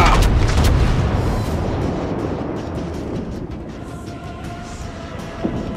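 Warship main guns fire in a naval battle video game, a heavy booming blast opening loudly and then rolling off into a long, low, fading rumble.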